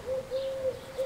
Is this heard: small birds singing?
yes